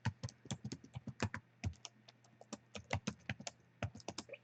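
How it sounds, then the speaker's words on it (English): Rapid clicking of a computer keyboard as text is typed into a thumbnail editor, close and clear, in uneven bursts of keystrokes with a low steady hum beneath. "And you just type it right in there."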